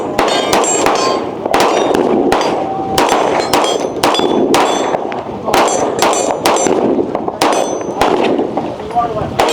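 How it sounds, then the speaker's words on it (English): A 6-inch STP 2011 pistol, German-made, fires a rapid string of about a dozen loud, sharp shots at a busy indoor trade-show range, each crack ringing metallically over the steady hum of the hall. "we're going to go ahead and just shoot the 6-inch real quick"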